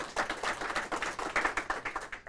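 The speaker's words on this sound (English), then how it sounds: "let's give Eric a round of applause" Brief burst of audience applause at a mayoral news conference in Albuquerque, dense irregular hand claps fairly close and moderately loud, with no voices over it.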